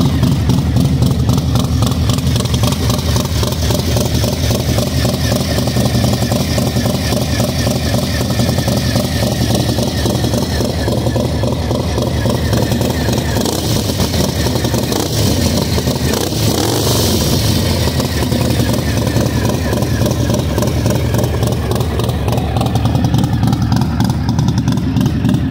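A stock 2022 Harley-Davidson Low Rider ST fitted with an aftermarket cam idles with a loping, uneven beat, then revs up and settles, loud and close for the whole stretch with no talking over it.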